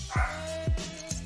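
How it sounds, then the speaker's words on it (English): A dog gives three quick, close barks in a rapid sequence, sharp yips over a faint steady background tone, heard indoors during an online micro stakes poker session. "My dogs are barking."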